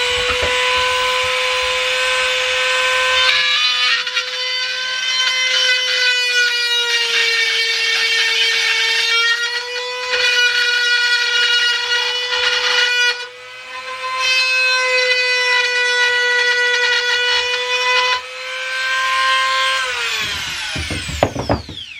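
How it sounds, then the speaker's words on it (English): A Wen rotary tool, model 23114, whines at a high, steady pitch while cutting hardwood. Its tone dips and rasps as the bit bites in, then it winds down at the end, loud and close. "Besides hitting that really loud, whiny pitch, like what happens with my router on occasion, when I'm going through and biting a bit of material off"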